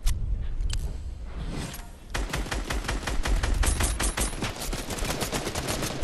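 Gunfire in a shooter video game with a lever action shotgun: a few isolated shots, then a dense, loud stream of rapid automatic fire at close range.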